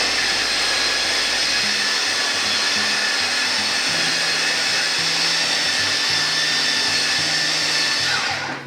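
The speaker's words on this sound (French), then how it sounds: "je vais poser mon truc au-dessus et directement le mixer." A kitchen blender whirs loudly and steadily while it purees aloe vera gel, a close, continuous motor whine with churning texture that winds down at the end, with no talking.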